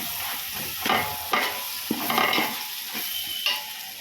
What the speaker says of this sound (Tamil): சிக்கன் சேர்த்து நல்லா பெருத்தி விடுங்க அந்த மசாலாவில்